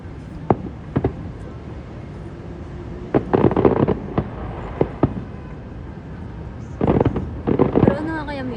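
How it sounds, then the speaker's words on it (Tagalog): Fireworks crackle and burst in scattered clusters at a distance during a pyromusical competition in the Philippines, sharp pops in quick volleys amid an open, airy background. "Fireworks."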